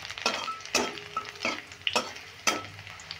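Sabudana pulao being stirred and fried in a pan: a steady sizzle broken by about six sharp, rhythmic spatula strokes scraping the metal roughly every half second, close and clear.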